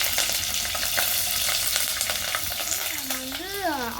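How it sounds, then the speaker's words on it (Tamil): Green chillies fry in hot, splattering oil for egg rice, giving a steady dense sizzle with scattered pops and crackles throughout, close and loud, with a brief rising whistle-like tone near the end. "ஆயில் வந்து ரொம்ப தெரிச்சனால கொஞ்சம் அதை நல்லா வந்து வதக்கிட்டு"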